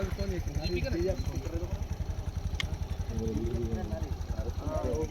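A tractor engine chugs steadily nearby during a tractor-trolley reversing contest, a rapid rhythmic diesel thump that continues throughout, with faint voices in the background.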